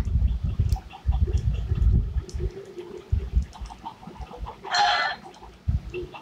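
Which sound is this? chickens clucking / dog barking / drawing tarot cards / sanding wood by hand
chickens clucking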